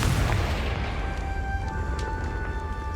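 Confringo fire spell in the Hogwarts Legacy video game: a heavy booming blast with a rumbling roar that fades slowly, followed by a faint tonal magical ring.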